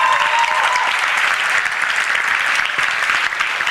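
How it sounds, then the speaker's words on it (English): A crowd applauds steadily at a talk on fighting racism through art, with dense, even clapping that holds at a constant level from start to finish. "big round of applause."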